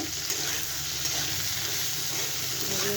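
Turmeric, cumin and coriander powders sizzle and fry in a pan with vegetables while being stirred, a steady close crackling hiss with soft scraping throughout.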